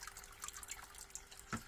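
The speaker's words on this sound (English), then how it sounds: "I'm trying to whiz through 18 litres of sparge water" Sparge water pouring during a home beer brewday, a quiet, steady trickle and splash of liquid with faint dripping and a brief louder splash near the end.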